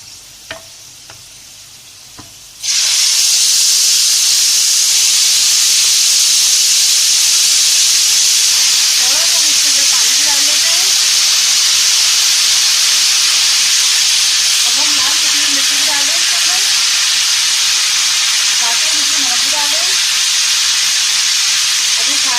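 Tamarind pulp hits hot, lightly browned spices in a pan for radish bhujia, bursting into a loud, sustained close sizzle and hiss after a brief quiet start, with faint stirring clinks.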